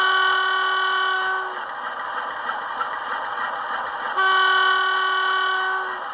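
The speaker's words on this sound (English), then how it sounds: "They haven't changed the sound of the horn, so it is what it is." Horn from the sound decoder of a Bachmann Class 47 model diesel locomotive: two loud sustained two-tone blasts, the first about a second and a half, then a pause of roughly three seconds, then a second blast of similar length.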